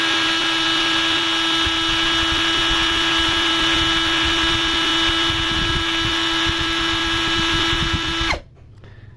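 A Kaelat cordless battery drill spins steadily at its lowest speed setting, giving a constant close whine that cuts off abruptly near the end.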